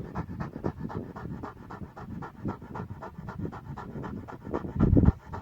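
A Kangal dog pants rapidly and steadily close by, short rhythmic breaths continuing throughout with a slightly louder huff near the end.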